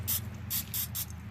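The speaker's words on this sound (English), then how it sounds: "I'm going to hit it with a little bit more olive oil." Olive oil sprays onto spaghetti squash in four short hissing bursts, fairly close and moderately loud, over a low steady hum.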